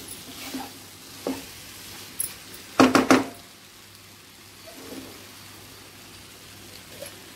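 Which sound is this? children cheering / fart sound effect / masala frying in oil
masala frying in oil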